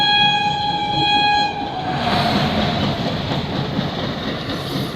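Coimbatore LTT Express train horn sounding loud and sustained, then cutting off as the train rushes past close by with a steady roar and rattling wheels.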